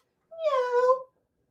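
A single drawn-out meow, about a second long, voiced by a person imitating a cat, alone against silence.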